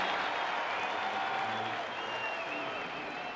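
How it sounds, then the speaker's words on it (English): Baseball crowd at Coors Field in Denver, Colorado, applauding during a rain delay, a steady wash of clapping and cheering from a large stadium audience that holds loud and even across the whole moment. "big applause here at Coors Field"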